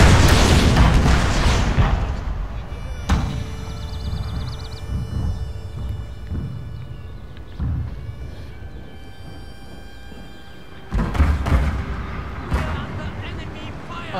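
Cannon artillery firing in the Total War: Shogun 2 Fall of the Samurai strategy game, heavy booming blasts at the start, near three seconds and again near eleven seconds, with rumbling battle ambience and faint music between.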